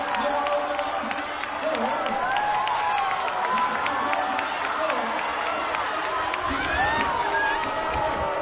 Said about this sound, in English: And people booed.